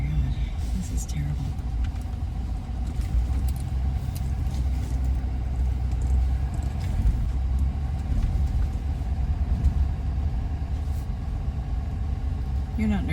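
A car driving slowly along a rough desert road in Baja California: a steady low engine rumble with bumping and rattling from the uneven track, with people talking inside the car.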